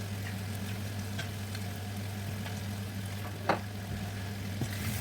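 Fish sizzles and crackles steadily in hot oil in a pot, with a low constant hum underneath and a sharper pop near the end.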